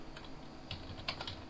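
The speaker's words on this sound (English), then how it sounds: "I'll type in my login." Keys clacking on a computer keyboard while a login is typed into a Unix shell, a short burst of quiet, irregular taps close by with no talking.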